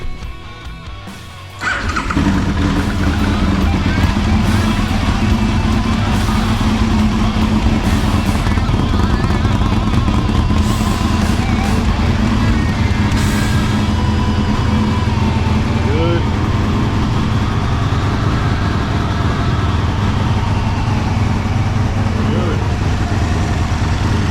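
An Aprilia RSV motorcycle engine catches and settles into a steady, loud idle on choke, holding a constant droning roar for about twenty seconds with a little light clatter over it.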